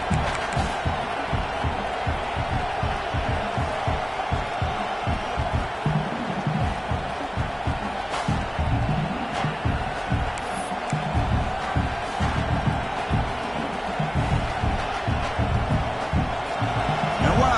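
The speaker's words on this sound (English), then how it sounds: "Listen to this crowd noise. This stadium is vibrating." A huge stadium crowd roars continuously, a dense wall of cheering and noise with scattered thumps and shouts, loud and sustained throughout.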